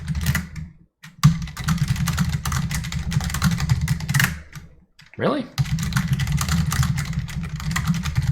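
Computer keyboard typing at close range, a steady stream of quick clicks during coding work, broken by a short pause in which a person briefly speaks before the typing resumes.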